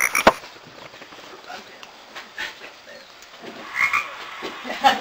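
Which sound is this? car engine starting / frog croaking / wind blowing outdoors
frog croaking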